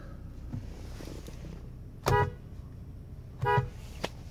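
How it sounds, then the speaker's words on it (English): A 2002 Lexus ES300 sounds two short honks of its horn, spaced about a second and a half apart, with a quiet background between them. "Horn works on the vehicle."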